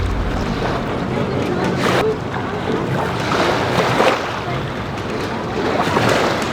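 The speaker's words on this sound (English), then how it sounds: "The motor's still on." An outboard motor on a houseboat runs steadily on the water, a constant loud drone mixed with wind buffeting and water wash.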